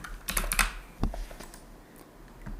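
Quick clicking keystrokes on a computer keyboard, a short burst of rapid taps followed by a few scattered presses, close and fairly quiet with no talking.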